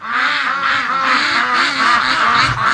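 Close, loud, continuous quacking from Muscovy ducks near their pen, a busy overlapping chorus of several birds with no talk.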